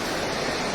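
A waterfall rushes along the Kedarnath trek, a steady loud roar of falling water with no breaks and no voices.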